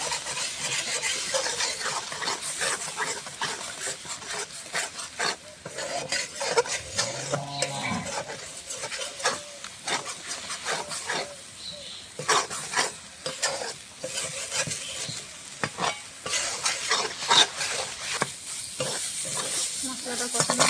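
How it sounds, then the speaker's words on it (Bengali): Spice masala of salt, turmeric and chilli powder being stir-fried in a kadai for a prawn curry, a steady loud sizzle broken by frequent scraping strokes of a spatula against the pan, with no talking. "মশলাটা এখন ভালো করে কষিয়ে নেব।"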